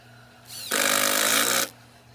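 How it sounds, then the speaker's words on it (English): A power drive whirring as screws go into clamped wooden sled parts for a table saw sled, one steady loud burst of about a second after a rising start, close by, with no talking. "I clamped them and I'm screwing them in."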